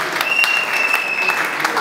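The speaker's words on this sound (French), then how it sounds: "Applaudissons une fois pour toutes" Audience clapping at a surprise birthday celebration for an elder, brisk continuous applause with a sustained tone ringing underneath and a few louder claps standing out.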